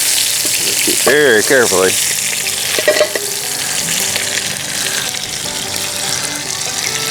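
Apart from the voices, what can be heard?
meat shanks searing in a Dutch oven over a campfire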